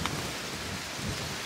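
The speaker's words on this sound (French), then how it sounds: "on a de la pluie là depuis quoi," Steady rain falling in the Monts d'Arrée countryside, a dense, even hiss of close, continuous downpour with no voices.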